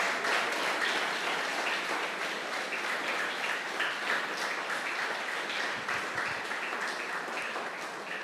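Applause from a congregation at a church service, a sustained, evenly dense rain of clapping from many hands that carries on for several seconds before easing slightly at the end.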